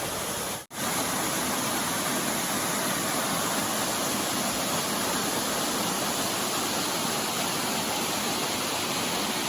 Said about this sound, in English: You look, you got water coming from a couple of different directions